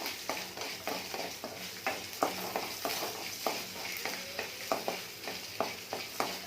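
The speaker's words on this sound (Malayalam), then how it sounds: "വെളുത്തുള്ളി, ഇഞ്ചി 2-3 പീസ് എല്ലാം വരണ്ട് വരട്ടെ" Garlic and ginger pieces fry in a pan with urad dal, a soft continuous sizzle marked by regular scraping strokes of a spatula about twice a second, close and fairly quiet with no talking.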